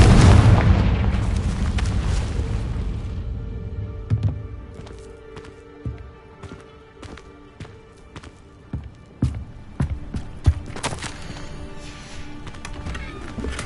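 In Hogwarts Legacy, a Confringo fire spell goes off as one loud, booming explosion that rumbles and fades over a few seconds. Scattered sharp clicks and small pops from the game follow.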